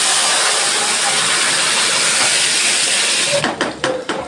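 Bottle gourd hits a hot pan with garlic, turmeric and coriander, giving a loud, steady hiss that suddenly drops away into a few clattering stirs near the end.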